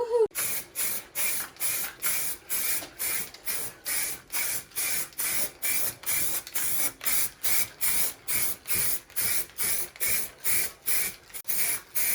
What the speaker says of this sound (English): So I'm just going to spray.